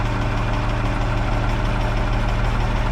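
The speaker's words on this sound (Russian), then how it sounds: "Пошли мазокран заводить" A MAZ crane truck's diesel engine idles steadily, a close, even low rumble with no starting sound and no other sounds.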